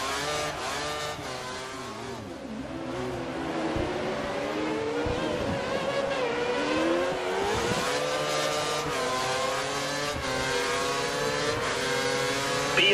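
Formula One race car engines in the F1 2013 video game at the Italian round, a steady high-pitched whine with rising and falling revs from the car and others nearby, loud and continuous throughout without talk.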